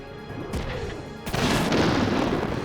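Mech weapons fire in the Front Mission 3 video game: an initial heavy thump, then a loud booming blast at about one second followed by a sustained crashing roar of impacts.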